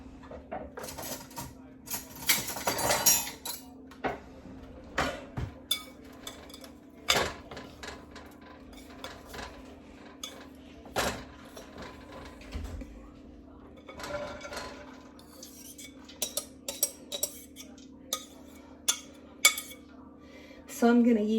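A knife scrapes and knocks against a dish while prying cold leftover lasagna loose, giving a long run of irregular metallic clinks and scrapes with a steady low hum underneath.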